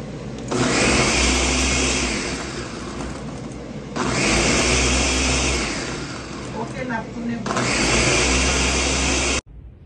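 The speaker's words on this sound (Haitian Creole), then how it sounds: "Ok, pour nous allons blender." Electric blender whirring through soursop cream with milk, sugar and essence, three loud sustained bursts of motor noise separated by short pauses, ending abruptly.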